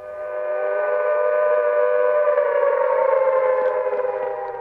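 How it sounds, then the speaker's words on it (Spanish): A World War II air raid siren wails steadily for several seconds, rising slightly in pitch then holding a loud, sustained, distant-sounding tone with no voices over it. "Siempre que sonaban las sirenas"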